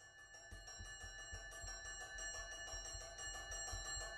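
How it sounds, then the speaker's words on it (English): Division bells in the House of Commons ring continuously, a steady rapid electric clatter with sustained metallic tones, fairly quiet and distant-sounding, with no talking. "In between the division bells announcing votes in the House of Commons"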